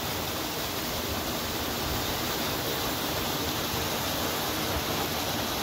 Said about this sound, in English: When it goes through the flow measurement right there, it drops over 7 steps.